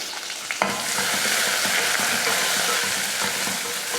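Crushed garlic, dried red chillies, mustard seeds and curry leaves hit hot oil in a pan for a fish curry, bursting into a loud, continuous crackling sizzle with sharp pops and stirring scrapes.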